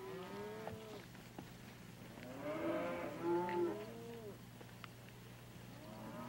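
Several cows of a hardy, robust breed, acclimatized over three centuries, moo in long, overlapping calls that swell in the middle, with a steady low hum underneath and no talking.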